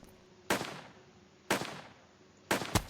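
A gun fires in the Western video game Above Snakes, giving three sharp, evenly spaced shots about a second apart, each with a short decaying tail, over a quiet background.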